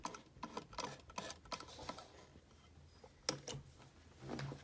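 A sewing machine stitching in quiet, uneven runs of light mechanical ticking and clatter, with a louder clack near the end.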